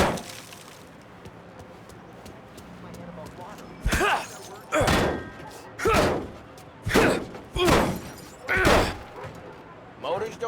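Molotov cocktail thrown and shattering in Mafia Definitive Edition, a series of loud crashing thuds and glassy bursts in irregular rhythm, close, over low game ambience.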